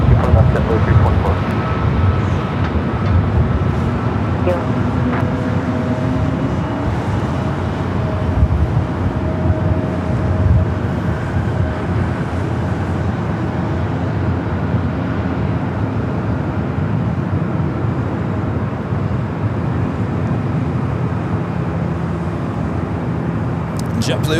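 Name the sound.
JetBlue airliner lining up on runway 24 left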